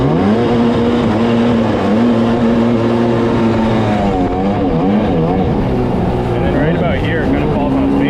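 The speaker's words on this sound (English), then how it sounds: "it gets up and goes, and it seems like it starves for fuel up top" A Sea-Doo XP Limited jet ski with a 951cc engine drones loudly and close, holding a steady roar before the revs waver and dip midway through.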